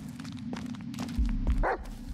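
A dog barks in the Blair Witch video game, a short burst of one or two barks over a steady low rumble and faint background creaks.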